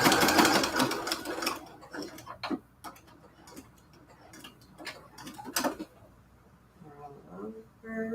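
A sewing machine stitches quilt curtains in short bursts of ticking needle strokes between pauses, fairly close, with a voice talking in the gaps and toward the end.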